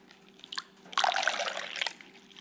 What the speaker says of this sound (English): I'm just going to pour some water in this old piston at the 17 to 1